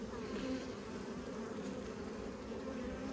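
Saskatraz honey bees drone steadily over an open hive, a dense, continuous close-up hum from the swarm with no voices.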